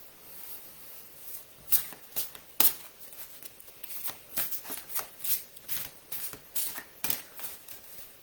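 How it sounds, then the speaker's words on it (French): Tarot cards being shuffled close by in repeated quick riffling bursts, some sharper snaps standing out, with no talking. "Mais je peux te tirer les cartes"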